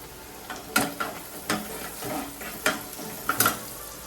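A mixed vegetable masala sautés in a pan, giving a soft continuous sizzle broken by irregular sharp scrapes and knocks of a spoon against the metal, close by and without speech.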